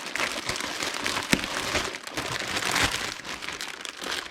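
A plastic bag holding a baby carrier is handled and unwrapped inside its box, giving continuous close crinkling and rustling with a few sharper crackles, no talk.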